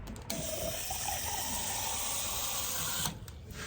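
Tap water runs steadily into a container for watering orchids, a constant broadband rush that stops abruptly near the end, leaving faint clatter.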